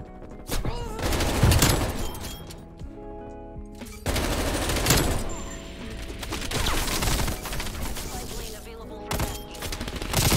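Rapid automatic gunfire in Call of Duty Cold War, bursts of loud close shots with a brief gap near the four-second mark, firing through most of the clip over a game soundtrack.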